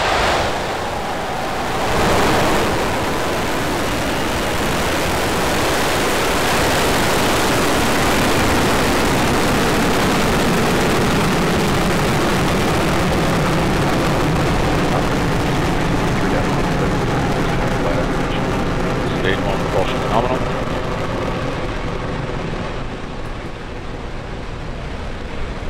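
A SpaceX Falcon 9 carrying the CRS-18 cargo mission ignites and lifts off, its exhaust making a broad, continuous roar. The rumble swells early, then holds steady and dense for the whole stretch, heavy with wind buffeting.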